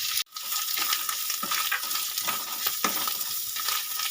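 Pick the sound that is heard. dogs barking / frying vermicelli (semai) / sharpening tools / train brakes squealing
frying vermicelli (semai)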